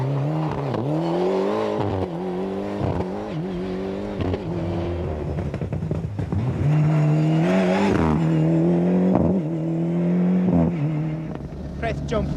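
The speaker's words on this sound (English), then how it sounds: "Aboard Hugh Dunn's Subaru Legacy, we approach the Sally Gap hairpin." Hugh Dunn's Subaru Legacy rally car on a stage of the 2000 Dunlop Rally of Ireland, approaching the Sally Gap hairpin, engine revving and dropping through gear changes, heard from onboard under a commentator's voice.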